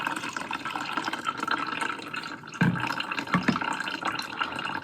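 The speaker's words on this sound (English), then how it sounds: "And you can hear it straining the liquid out." Liquid from chopped red cabbage poured and strained through a filter in a kitchen, a continuous trickling, splashing flow with a few louder spatters midway, fairly close and without talk.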